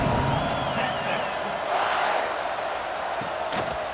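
Simulated stadium crowd in EA Sports College Football 26 keeps up a dense, loud roar of cheering, with occasional whoops and a sharp thud near the end, under a commentator's voice.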